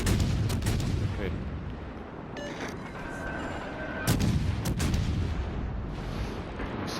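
Destroyer gunfire in World of Warships, with rapid sharp gun reports and impacts cracking over a constant roar of sea and engine noise, and a heavier blast about four seconds in.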